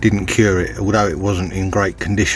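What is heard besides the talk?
No everyday noises stand out.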